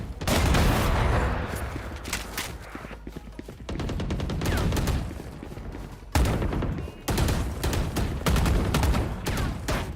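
Rapid gunfire bursts from the Valorant video game crackle loudly and repeatedly, with sharp volleys broken by brief gaps, nearby and dominant throughout.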